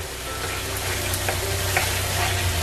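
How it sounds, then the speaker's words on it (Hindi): Spice masala for a dahi rohu fish curry frying in oil, a loud continuous close sizzle with faint stirring scrapes. "अब सारे मसाले को मैं बहुत अच्छी तरीके से फ्राई कर लेंगे"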